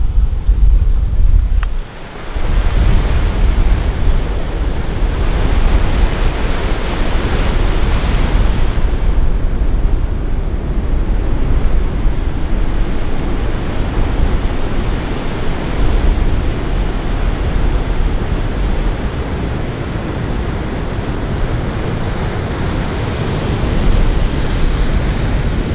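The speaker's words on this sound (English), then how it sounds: "I'm gonna go take some videos of some big fucking waves" Big ocean waves break at a surf spot in Kiribati, a continuous loud roar of surf with heavy wind buffeting the microphone, one brief dip near the start, no voices.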